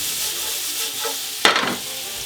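Shallots and mushrooms sweating in a pan for bouchées à la reine, with a soft steady sizzle broken by one sharp scrape and stir partway through, close and alone.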